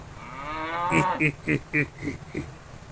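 A cartoon cow moos after falling into a pit: a drawn-out low call followed by a quick series of short, pulsing moos, close and alone.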